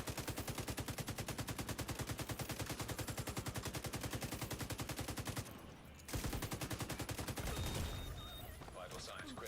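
Rapid automatic gunfire with fire bullets in The Division 2 on PC: a dense, loud machine-gun stream of evenly spaced shots that cuts out briefly, then resumes with a heavier burst amid crackling game effects.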